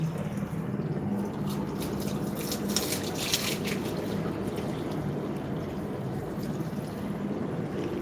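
Tap water arriving and pouring into a container, a steady rushing splash with brief louder gushes midway, continuing evenly throughout with no talk.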